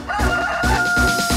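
A human voice imitates a rooster crowing, a loud, close, drawn-out cock-a-doodle-doo call with wavering pitch, at a graduation ceremony at a speech and language rehabilitation centre, sung as part of a farm song about roosters.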